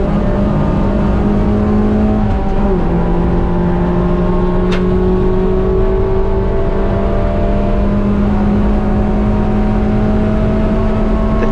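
A race car engine at full throttle in an ST6 race at NCM, a loud continuous in-car drone holding a steady high pitch with a slight dip and recovery, no talking.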